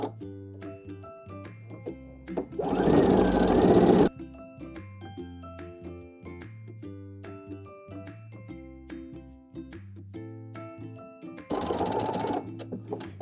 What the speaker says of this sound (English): Now we're going to flip it under and zigzag it one more time.